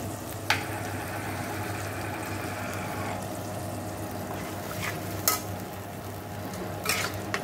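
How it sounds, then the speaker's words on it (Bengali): Masala for paneer masala frying and being stirred in a pan, a continuous crackling sizzle under a low hum, with a few sharp scrapes and clinks of the spoon against the metal. "ভালো করে মশলাটা কষিয়ে নেব।"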